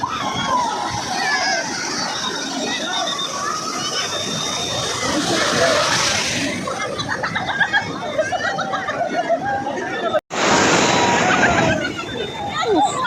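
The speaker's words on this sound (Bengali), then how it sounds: "ঢেউ আসছে" Waves wash onto a seaside beach in a steady, broad roar that swells and breaks around the middle and again near the end, with children and other voices chattering throughout.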